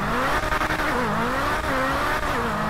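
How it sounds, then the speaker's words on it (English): A McLaren 765LT sports car driven fast in GTA 5, its engine holding a loud, close, wavering high drone with slight pitch shifts and faint tire noise, no talk. "This car is so fast too"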